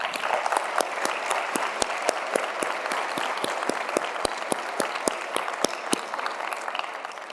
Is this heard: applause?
yes